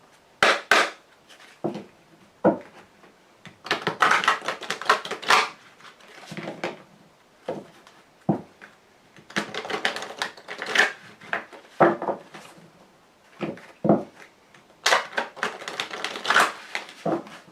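Lenormand cartomancy cards being shuffled and cut by hand, in repeated bursts of crisp riffling and slapping with short pauses between them, close and fairly loud.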